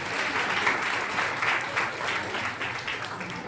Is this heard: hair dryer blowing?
no